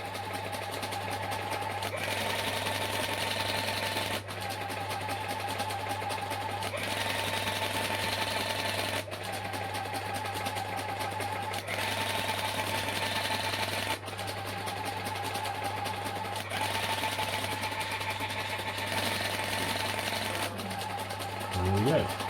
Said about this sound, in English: And now it's going with the binary decimal converter.